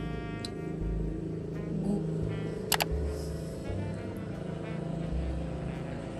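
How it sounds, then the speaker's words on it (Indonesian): A motorcycle passing by during an outdoor film shoot: a steady low engine rumble, moderately faint and fairly distant, with a couple of sharp clicks midway. "ada motor lewat"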